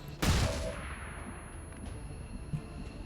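Flashbang grenade going off in XCOM, a single sharp, loud bang right at the start that rings and fades, followed by faint scattered clicks.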